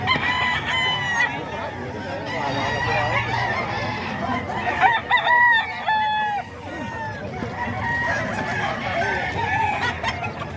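Stag roosters kept by a Filipino breeder crow repeatedly nearby, with overlapping crows and clucking from several birds in a busy, continuous chorus.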